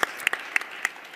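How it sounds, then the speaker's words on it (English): An audience at a tourism debate gives a short round of applause, scattered claps sounding fairly close and crisp, with no talking. "a round of applause, please"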